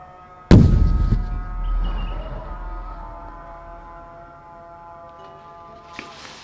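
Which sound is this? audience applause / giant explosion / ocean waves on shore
giant explosion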